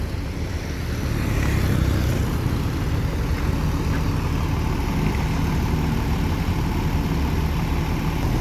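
Steady low rumble of a large NPM V35 bus engine pulling away on the road toward Rantau, loud and continuous without breaks.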